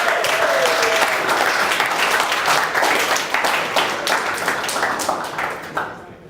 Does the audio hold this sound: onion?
no